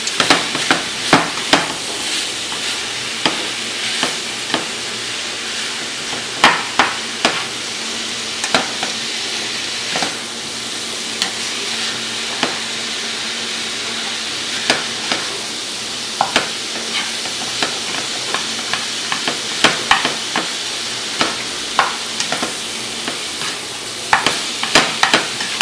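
Food frying in a skillet on a stovetop at fairly high heat, a loud continuous sizzle broken by frequent sharp pops and clicks of stirring and spattering throughout.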